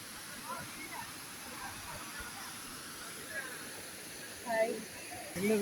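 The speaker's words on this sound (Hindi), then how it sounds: "So friends, this is Kanthanpara Waterfalls." Kanthanpara Waterfalls in Wayanad, Kerala, sounding as a steady, broad rushing hiss of falling water heard from a distance, with faint crowd noise and brief voices rising near the end.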